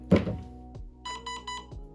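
A thump followed by a short series of four electronic beeps from an airsoft M4 rifle's electronics, in a quick, even rhythm, close and moderately loud.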